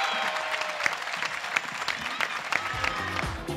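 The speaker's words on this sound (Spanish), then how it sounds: "Un fortísimo aplauso para Jesús Lago, el pregonero 2018 de las fiestas de Butarque." Crowd applause at an outdoor town festival opening in Leganés, with steady clapping and sharp individual claps standing out, under a busy crowd and voices talking.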